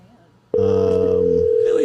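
A telephone tone on an outgoing call to a radio show guest starts abruptly after a quiet half-second and holds steady and loud to the end.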